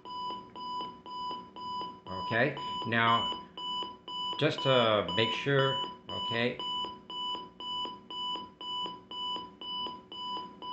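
A Capello CR-2 AM/FM alarm clock radio sounds its alarm, a steady train of evenly spaced electronic beeps that keeps repeating while a person talks briefly over the early part.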